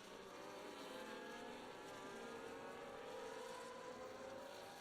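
Formula 1 video game cars circle the Singapore street circuit behind a safety car, a steady synthesized engine whine holding at an even, moderate level with no talk.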